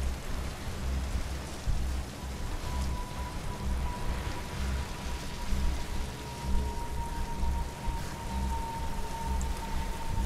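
Steady, moderate rain storm in the video game The Last of Us Part II, a dense hiss of falling rain with low rumbling underneath and a faint sustained tone running through it.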